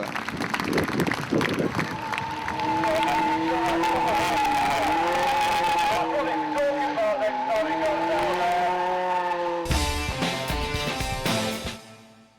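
A motorcycle performing a one-handed rolling stoppie at a Street Fighter stunt show, with a sustained, wavering engine whine and tyre noise over crowd sound and a commentator's voice, ending in a sudden roar before fading.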